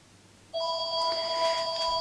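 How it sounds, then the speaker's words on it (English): A telephone starts ringing partway through with a steady electronic tone that holds at a constant pitch and is fairly loud and close over a quiet room. "Please excuse the phone there."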